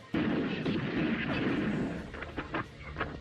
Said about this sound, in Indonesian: Lalu John muncul dan menembaki semua para penjahat.